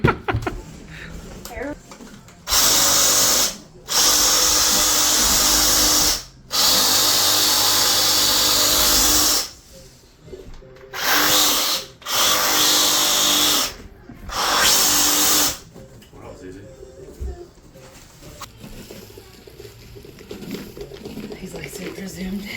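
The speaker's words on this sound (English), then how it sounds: "Want to use a sawzall?" A Sawzall reciprocating saw runs in several loud bursts of a few seconds each, a harsh buzzing rasp that starts and stops repeatedly, with people talking in between and afterward.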